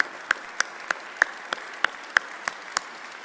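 Slow, sparse claps ring out one by one, about ten sharp, evenly spaced hand claps from just a few people, greeting the Schwarzenegger Institute team at the grand opening of an aquaculture lab.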